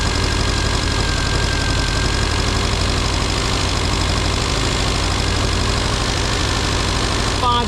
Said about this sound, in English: you can hear the engine note picking up now.